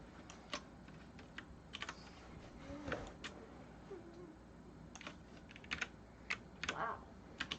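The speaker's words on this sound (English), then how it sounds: "It's like half of my keyboard presses are being ignored." Computer keyboard keys clack in quick irregular bursts during a game development session, close-miked individual presses scattered over a faint room hiss, with no talk.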